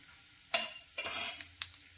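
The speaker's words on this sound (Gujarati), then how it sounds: "હવે બધા જ મસાલાને સારી રીતે સાંતળી લઈશું." Spices such as ajwain and asafoetida stirred in a pan while cooking a Gujarati valor and brinjal curry: a few metallic scrapes and clinks of a spoon with a soft sizzle, close and brief.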